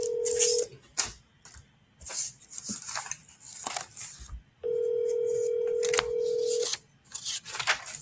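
Ringback tone from an outgoing phone call to an agent's contact: two long steady rings, one short and one about two seconds, with clicks and background noise between them and no talk.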